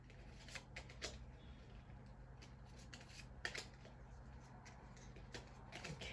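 A deck of tarot cards is shuffled by hand in a quiet room, giving soft repeated riffling and flicking bursts with small taps between them. The sounds are faint and close, with no talk.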